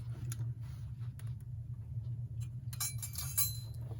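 A glass cover is set onto a Telechron alarm clock during restoration, giving a few light glassy clinks and taps near the end over a steady low hum, with no talking.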